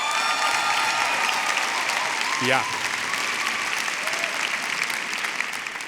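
Audience applause fills a music-industry awards ceremony hall, loud and steady throughout, with a brief voice breaking through partway.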